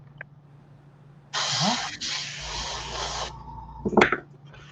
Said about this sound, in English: So just shoot your airbrush across it.